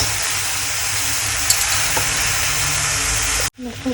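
Steady loud sizzling of cabbage frying with spices like turmeric, cumin and coriander in a hot pan, constant and close, cutting off abruptly near the end.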